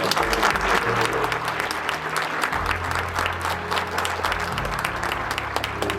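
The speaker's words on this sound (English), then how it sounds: "Please give them a nice round of applause" An audience at an MLK Day speech event gives a sustained round of applause: dense, even clapping that stays loud throughout, with a low hum underneath.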